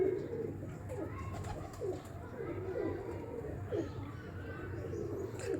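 Champion breeder pigeons on a Lahore rooftop coo in soft, repeated low calls over a steady background, with faint voices nearby.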